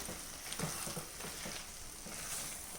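Mashed tapioca and chicken masala being stirred in a pan, a soft steady sizzle with repeated scraping spoon strokes, close and without voices.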